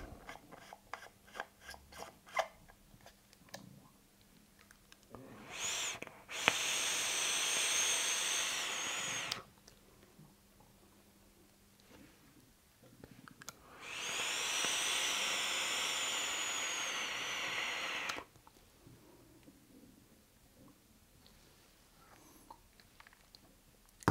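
Vapor hisses through a Taifun GS III atomizer, a GSL clone, during two long draws of several seconds each, separated by quiet stretches with faint clicks and handling noises.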